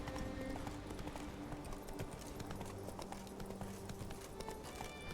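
Horse hooves galloping steadily in The Witcher video game while riding off-road, a continuous clip-clop rhythm under ambient game sound.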